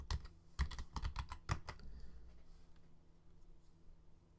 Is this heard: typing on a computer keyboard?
yes